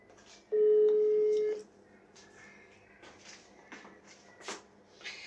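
Telephone call being placed: a steady one-second dial-type tone, followed by quiet handset clicks and faint background noise.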